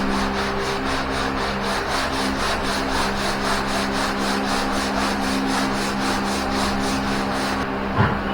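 Steady, rhythmic scraping of sandpaper on wood, back-and-forth strokes repeating evenly and close up, with a low hum underneath.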